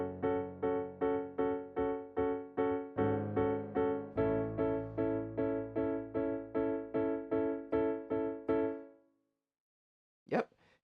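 Steady piano chords pulse evenly while a bass line walks upward beneath them, up close, ending in silence and then a brief knock.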